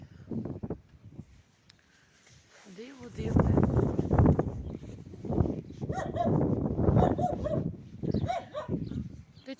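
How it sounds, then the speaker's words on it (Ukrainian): A small dog barks in a series of sharp yips and whimpering barks outdoors on a windy spring day, close and fairly loud, while someone talks to it between and over the barking. "Ти чого гавкаєш, а?"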